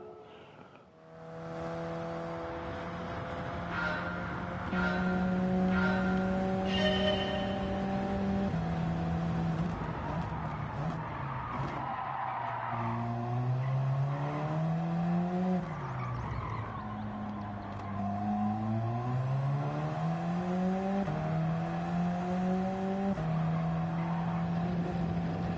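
Race car engine in Gran Turismo 7 gameplay, droning steadily with rising and falling revs and gear changes throughout, loud and continuous with no talk.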